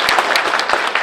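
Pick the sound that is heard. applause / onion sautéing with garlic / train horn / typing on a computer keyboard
applause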